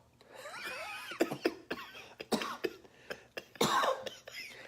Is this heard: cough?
yes